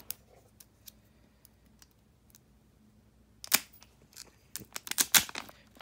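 A Digimon card booster pack torn open by hand without scissors: faint rustling handling, then close, crisp bursts of crackling foil wrapper ripping in quick successive tears, with no talk.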